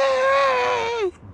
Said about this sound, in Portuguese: Um grito vindo